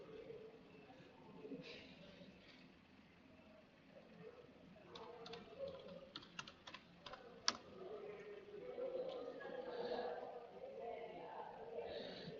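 Keystrokes on a computer keyboard tap out in a quick irregular burst near the middle, soft and close over a dull room hum.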